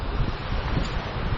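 Wind gusting across open fell country in Great Langdale during a rain storm walk, a steady low roar and buffeting with no voices.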